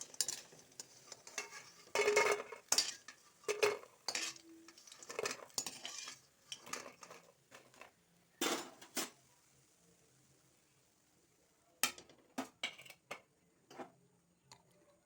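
Fried lentil fritters made with hinche greens are lifted out of a pan with a utensil, giving repeated scraping and clinking knocks in bursts, with faint sizzling of oil between them.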